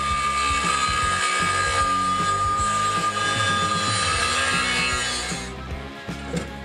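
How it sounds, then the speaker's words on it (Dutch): An angle grinder cuts metal while a square welding helmet is being built, a loud, steady high-pitched whine with grinding noise that holds for about five seconds and then winds down toward the end. "We zullen de slijptol eens pakken."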